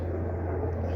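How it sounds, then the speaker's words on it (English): Low droning rotor hum of a helicopter flying overhead, steady and fairly loud, with a faint rumble underneath. "excuse the helicopter noise"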